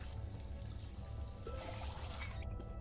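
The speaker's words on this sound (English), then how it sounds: "Fill this bag up with water." Water being poured to fill a bag in the space survival game Out Of Space, a soft trickle and pour over a steady low hum of game ambience, with a brief gurgling rise near the end.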